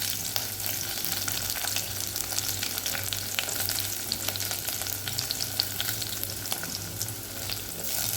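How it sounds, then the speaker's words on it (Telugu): Onion and green chilies fry in oil, a steady dense sizzle and crackle with faint stirring, close and even throughout, no voices. "నూనె పోసిన, ఉల్లిగడ్డ వేసిన"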